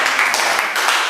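Brief burst of classroom applause for a student group in an automotive engineering lesson, a close, dense patter of many hands clapping at once.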